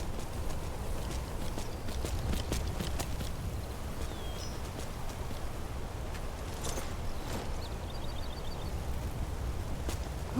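Horse hooves clip-clop in Skyrim, a soft, steady patter of footfalls under constant outdoor ambience, with faint bird chirps scattered throughout.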